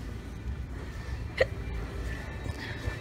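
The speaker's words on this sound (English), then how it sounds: "I have the hiccups now." One faint, short hiccup from a woman stands out against quiet background noise.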